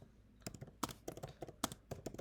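Someone typing an email on a computer keyboard: quick, uneven clacking keystrokes in short runs, close but quiet, with no talking.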